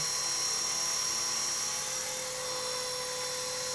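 JCZK 300C radio-controlled helicopter with plastic rotor blades spinning at low revs, giving a steady, fairly faint whirring whine that holds an even pitch throughout, with no voices.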